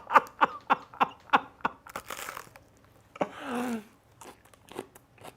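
Loud, close crunching bites into raw red cabbage, a rapid series of crisp snaps followed by wetter chewing, with a brief burst of voice partway through.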